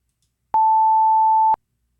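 An 880 Hz sine wave sounds as one clear, steady high tone for exactly a second, starting and stopping abruptly with silence before and after.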